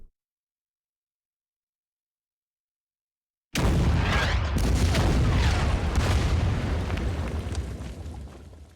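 Artillery fire in the wargame Order of Battle: after a stretch of silence, a sudden loud boom bursts in and rolls into a sustained rumbling barrage of blasts that slowly fades.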